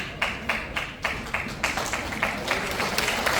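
An audience at a People Power Party Yangcheon-eul district party meeting in a hall at Haenuri Town claps in quick, steady rhythmic bursts that build slightly louder toward the end, with no talk over it.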